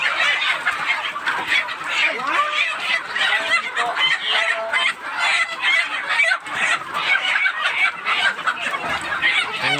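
Chickens cluck and squawk steadily throughout, dense overlapping calls at close range while being vaccinated before sale, with occasional crowing-like calls mixed in.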